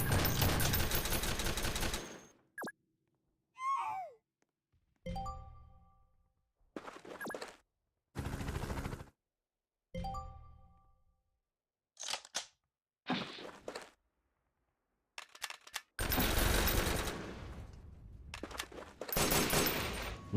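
Rifle gunfire cracks out in Noobs In Combat: Cold Front, with long sustained bursts at the start and near the end and several shorter volleys and single shots between silent gaps, loud and close.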